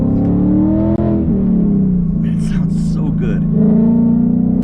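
Ford Mustang GT (S550) V8 fitted with long tube headers, a loud, close rev that climbs, dips and holds in a throaty drone, with speech breaking in partway through.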